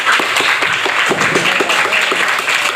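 Students in a classroom give a short round of applause for two classmates, a close, busy patter of hand claps that is steady throughout.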